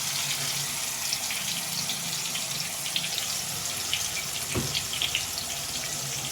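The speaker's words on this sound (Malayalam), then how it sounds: "അതിലേക്ക് ഞാൻ അരച്ച് വെച്ചിരിക്കുന്ന ഉള്ളി പേസ്റ്റ് ഇട്ട് കൊടുക്കാൻ പോവാണ്." Ground paste of onion, tomato, green chilli, ginger and garlic sizzles in hot oil for a crab roast, producing a steady, moderately quiet hiss with a faint crackle and one brief knock partway through.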